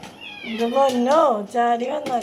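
A cat meows repeatedly up close while being fed rice, with several drawn-out, rising and falling calls in quick succession and little pause between them.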